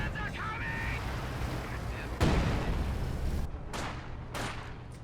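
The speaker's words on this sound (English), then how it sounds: "It's a 76 long range barrage here." 76 mm long-range artillery barrage in Company of Heroes 2, with heavy booming impacts and rumbling blasts over dense battle noise, a sharp crack landing mid-way and further thuds after.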